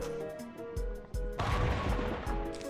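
Gunfire in a zombie shooter video game, a few heavy thuds giving way to a steady, dense barrage of shots over background game music, fairly loud and continuous with no talk.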